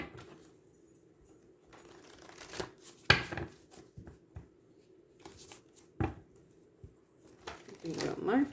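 Tarot cards being shuffled in short riffling bursts, with soft handling noises and a few sharper snaps between quieter pauses.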